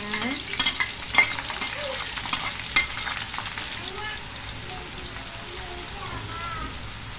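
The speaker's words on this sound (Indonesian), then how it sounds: "Goreng bawangnya" Shallots frying in hot oil, a soft steady sizzle with a few stirring clatters early on, fairly quiet and close.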